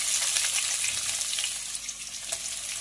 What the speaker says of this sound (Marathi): तर आपल्याला कांदा चांगला फ्राय होऊ द्यायचा आहे, एकदम गुलाबीसर रंगावर येईपर्यंत।